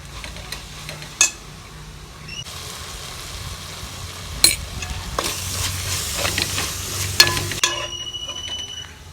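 Steady stirring and sizzling of chili powder frying into beetroot kurma for parotta salna, with spoon scrapes against the pan and a few sharper clinks over a continuous hiss.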